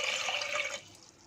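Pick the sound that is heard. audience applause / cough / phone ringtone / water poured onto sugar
water poured onto sugar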